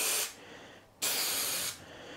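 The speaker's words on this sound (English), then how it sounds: "we're going to spray a little bit on the other side" Spray adhesive hissing from an aerosol can in a workshop, applied to the middle of a DeWalt Toughsystem tray: two long, loud bursts with a short pause between, and a brief start of a third at the end.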